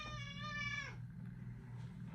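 A single drawn-out cat meow, close and clear, over a steady low hum in an indoor room, then fading to quiet background.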